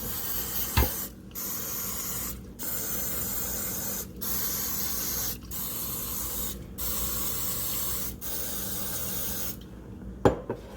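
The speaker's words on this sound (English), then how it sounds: "Use this non-stick spray." Short bursts of non-stick cooking spray hiss repeatedly, about six sprays spaced roughly evenly, close and fairly loud against a quiet room.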